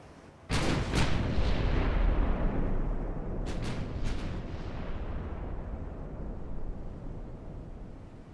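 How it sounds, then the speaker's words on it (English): Naval guns fire in the warship game Ultimate Admiral: Dreadnoughts: a pair of heavy booms, then another quick cluster of blasts, each trailing into a long, low rolling rumble. "I want to get that last set of guns firing."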